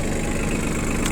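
A Yanmar AF18 compact tractor engine idles steadily and close by, a continuous low, even rumble with a faint knocking texture and no voices.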